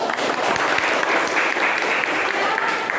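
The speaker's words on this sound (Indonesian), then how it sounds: "Tepuk tangan dulu dong." A classroom group applauds after a student presentation, a dense, steady patter of many hands clapping at once, close and loud for the full stretch with no pause.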